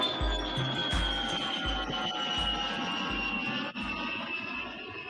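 A fixed-wing airplane landing, its steady engine roar holding loud and broadband throughout with a high whine on top, heard from nearby without speech.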